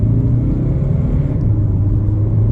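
Deep, steady engine rumble from inside an automatic diesel Hyundai Tucson with a dual-clutch gearbox, accelerating, low and loud, holding an even drone with a slight dip partway through.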